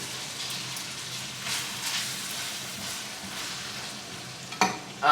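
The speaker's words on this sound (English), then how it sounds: "I'm going to add some diced tomatoes that I got here and some tomato sauce." Diced tomatoes and tomato sauce go into a pasta sauce cooking in a pan, giving a steady close sizzle and bubbling with soft stirring scrapes, then a sharper clatter right at the end; nobody talks.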